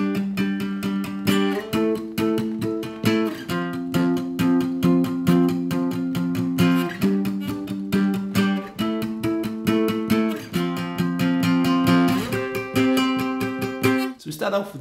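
Guitar plays the bridge of a song as steady, rhythmic strummed chords in repeating groups, close and fairly loud, with no talking.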